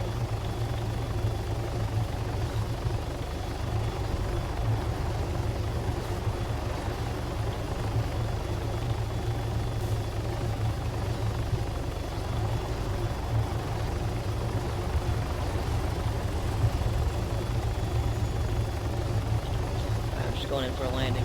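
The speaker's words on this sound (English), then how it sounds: "Going in for a landing here, and then I'm gonna ditch my helicopter." Helicopter in the combat video game Arma, a steady engine drone with rotor thrum that stays loud and constant for the whole stretch as it flies in and comes down for landing.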